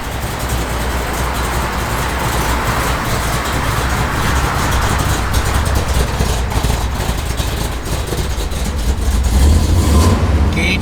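A 1972 Dodge Challenger Rallye's engine runs steadily with a rough, throbbing idle and the cam loping underneath, then swells slightly louder near the end, with no talking.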